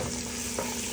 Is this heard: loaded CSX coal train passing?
no